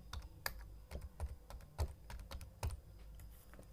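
Someone types a mobile number on a computer keyboard, producing an irregular run of crisp, close key clicks with no talking.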